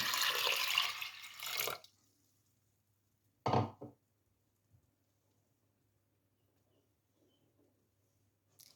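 Water is poured into a pot of soaked mashkalai (urad) lentils for half-boiling: a steady rushing pour lasting under two seconds, then a short clink and near silence.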